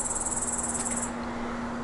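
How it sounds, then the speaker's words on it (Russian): Grasshoppers chirp in a rapid, high, buzzing trill that is close and fairly loud for about a second and then stops, over a steady background hum. "Уже стрекочут кузнечики"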